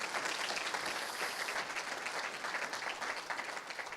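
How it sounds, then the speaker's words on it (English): A conference audience at a technology transfer event gives a round of applause: dense, even clapping from many hands runs steadily throughout, fairly distant and soft, with no speech over it. "A round of applause for the programming committee."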